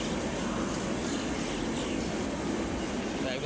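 A train bound for Delhi at Tundla Junction railway station gives off a continuous, fairly loud rolling rumble with steady rail clatter from the passing carriages throughout the short stretch.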